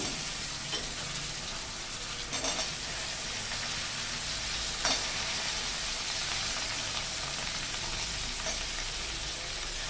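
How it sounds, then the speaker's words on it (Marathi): Steady frying sizzle as aubergine and other vegetables go into hot oil with ground masala for traditional Bhogi mixed-vegetable bhaji, with occasional soft stirring clinks over the hiss, close and continuous throughout. "आणि ह्या ज्या भाज्या आहेत ह्या भाज्या याच्यामध्ये टाकायच्या। हे छान हलवून घ्यायचं।"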